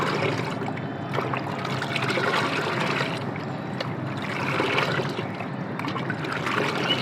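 Rice starch water is being mixed into a five-litre liquid plant-fertiliser solution, giving a steady, close, continuous swishing and sloshing of water throughout without pauses or talk.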